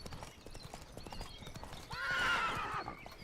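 Roach, the horse in Witcher 3, gallops with rapid rhythmic hoofbeats, then lets out a loud, drawn-out neigh near the end, with game sounds underneath.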